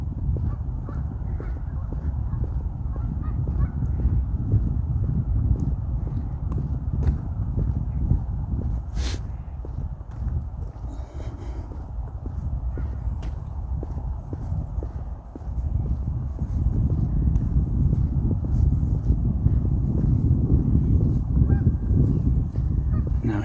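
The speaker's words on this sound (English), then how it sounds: "Lots of geese over there." Geese honking in a cemetery near water, a busy flock calling continuously at middling distance, with a rough, dense texture of honks and rustle, and ducks mixed in.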